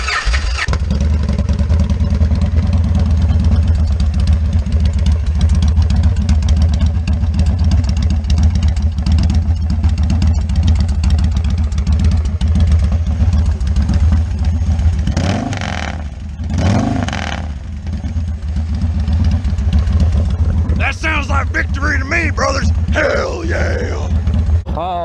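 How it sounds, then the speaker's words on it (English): A Victory Vegas motorcycle's Freedom V-twin engine runs steadily with a deep, throbbing rumble for the whole stretch, dipping briefly before settling back into a continuous loud idle. "let you guys hear that sweet, sweet Freedom V-Twin sing"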